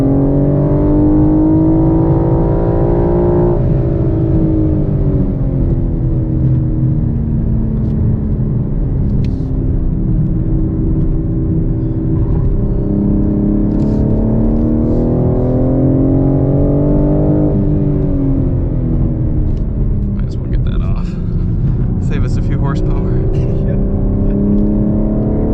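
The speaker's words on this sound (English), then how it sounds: "How much of this engine noise do you think is piped in?" A 2021 BMW M4 engine with a six-speed manual drones continuously on a race track, its pitch climbing and dropping through gear changes as it accelerates and brakes, loud and close throughout.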